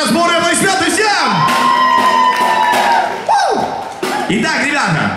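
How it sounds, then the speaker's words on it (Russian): Audience at a drum show in Kyiv applauding and cheering loudly and continuously, with whoops and shouts over a host's amplified voice speaking. "Еще раз бурные аплодисменты всем!"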